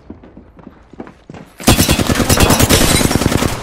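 Rapid gunfire in the Apex Legends video game erupts suddenly after a few quieter taps and footsteps, then continues as a loud, dense burst of automatic shots while the player is under fire, with no speech.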